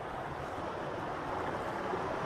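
Rushing river water at the Three Shires Head waterfalls, a steady broadband wash that stays even and moderately loud from start to finish with no voices.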